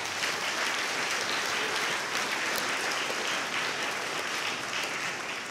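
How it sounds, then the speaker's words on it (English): A school ceremony audience applauds the sophomore class: dense, steady applause from a large crowd, loud and unbroken throughout with no speech. "Let's give our sophomore class a round of applause"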